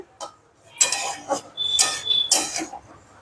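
A utensil scrapes and clinks inside a pot of Malabar spinach and pumpkin curry cooked with a fish head, sounding as several separate, close stirring scrapes with a short ringing clink between them.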